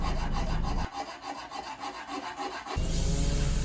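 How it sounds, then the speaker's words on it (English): Rhythmic rasping strokes of sanding and filing on wood, repeated back and forth at a steady pace, close and fairly loud. "I still had to do quite a bit of sanding and filing"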